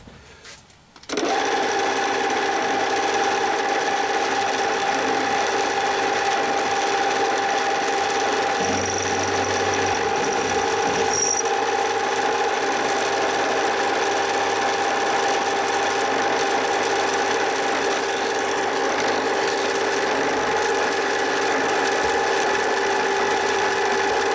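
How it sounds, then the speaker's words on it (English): A milling machine cutting a flat on a small part for 4mm grub screws, made for a Reliant 850 trike handbrake, starts abruptly and then runs as a loud, steady mechanical whine with gear-like hum, unbroken and close. "So we're on the mill. All we're going to do, I'm just going to stick a flat on there"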